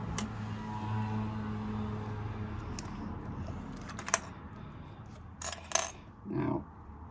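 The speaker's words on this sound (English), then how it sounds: "I'm now going to stitch down this short end using a 1/4 inch seam allowance" A sewing machine stitches down the short end of a fabric bag with a quarter-inch seam, giving a steady motor hum for about two seconds before it stops, followed by scattered clicks and fabric handling.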